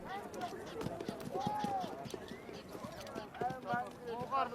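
Horses' hooves clip-clop at the start of a large race of some 500 horses, a rapid distant patter under a narrator's voice.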